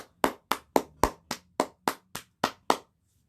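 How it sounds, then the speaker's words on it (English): Eleven crisp, evenly spaced claps ring out close and clear, about one every quarter second, then stop, with no talking. "So let's give her a round of applause."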